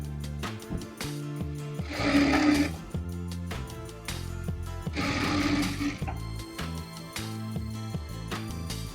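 A sewing machine hems a Patiala salwar with a steady rhythmic mechanical chatter throughout, swelling into two louder stitching bursts.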